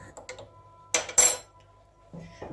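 A hot pot lifted off the stove with a towel clanks and clatters against metal, a few sharp close knocks followed by a brief rush as water pours out into a strainer.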